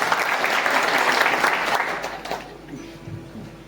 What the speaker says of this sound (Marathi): हे सगळे टाळ्या वाजवा बरं.